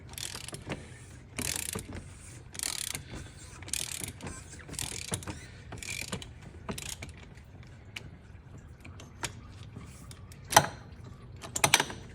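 An oil filter wrench works loose the oil filter on a Mercedes-Benz GLC, giving close, quiet mechanical clicks and ratcheting scrapes in irregular bursts, with a couple of sharper metallic knocks near the end.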